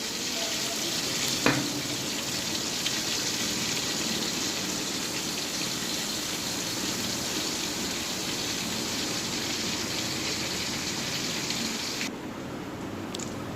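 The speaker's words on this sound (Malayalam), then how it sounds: "അത് വറുത്ത് പിന്നെ മൂത്ത് വന്നിട്ടുണ്ട്." Pieces of chura (tuna) fish frying in hot oil in a pan, a dense, continuous close sizzle like heavy rain, with one sharp utensil knock early on and a slight drop in intensity near the end, no voices.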